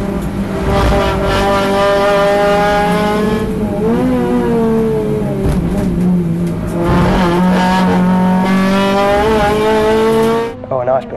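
A track day car on Yokohama AR1 tyres laps a circuit: a loud, continuous in-car engine drone that climbs and drops in pitch through gear changes, with a voice heard over it.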